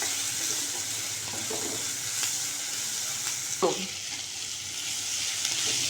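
Chopped onions with salt sauté in a hot pan for an onion theeyal curry, giving a steady close sizzle with occasional stirring scrapes and clinks.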